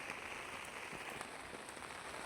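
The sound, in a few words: rain falling at a theme garden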